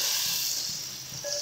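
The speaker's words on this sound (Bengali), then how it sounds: "এবার দিয়ে দিচ্ছি পরিমাণ মতন জল।" Water is poured into a hot pan of cooked-down tomato for an egg curry, producing a continuous loud hiss and sizzle that fades slightly before swelling again.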